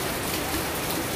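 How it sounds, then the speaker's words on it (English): Heavy rain pours outside in a dense, even hiss of drops, with no pauses and no voices. "But it's been raining so hard sa labas."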